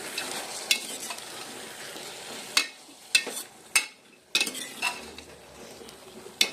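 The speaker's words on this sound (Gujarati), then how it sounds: "તેને હલાવી નાખશું." A spoon scraping and clinking against a pan while undhiyu vegetables are stirred, several sharp knocks spaced a second or so apart over a soft sizzle, close and alone.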